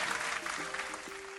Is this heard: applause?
yes